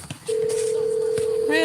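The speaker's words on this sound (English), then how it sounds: "The phone just rung." A phone sounds a steady electronic tone lasting over a second, then shifts into a brighter warbling ring at the end, fairly loud against a quiet room.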